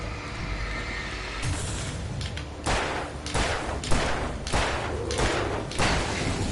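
Shotgun blasts in the Alan Wake video game, several loud broadband booms spaced about a second apart over a steady low background rumble.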